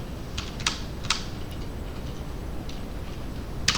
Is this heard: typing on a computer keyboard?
yes